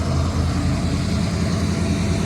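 A 1992 Chevy Silverado K2500 idles through a custom exhaust, a steady close low rumble that lasts throughout with no talking.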